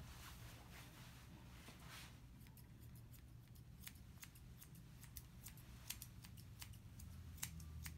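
Scissors trimming the face hair of a matted Shih Tzu during grooming, a run of crisp, quick snips close by over a quiet background.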